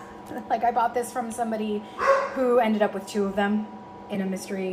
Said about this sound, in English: so I'm sorry for the dog barking